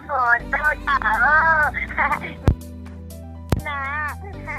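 A Jio caller tune plays over a phone call: a cheerful sung melody with wavering vocal lines, broken by two sharp clicks partway through before the singing resumes.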